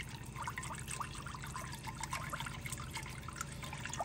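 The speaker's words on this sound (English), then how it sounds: "I'm going to add the rest of my milk." Milk pours steadily into a cooking pot while au gratin potatoes are made, a soft continuous liquid trickle heard close up and fairly faint, with no talking.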